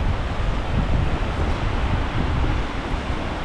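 Waves wash against the shore of Lake Ohrid at Pogradec in winter, a dense steady rush of surf mixed with strong wind buffeting the microphone, continuous and close, with no voices.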